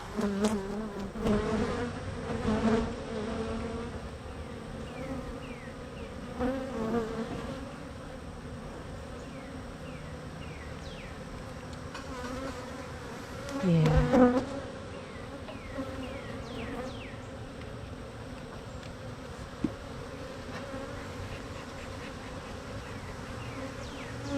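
Dense, steady buzzing of many honey bees up close, a constant swarm drone with occasional louder passes and a brief swell midway.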